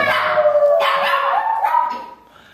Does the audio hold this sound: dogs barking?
yes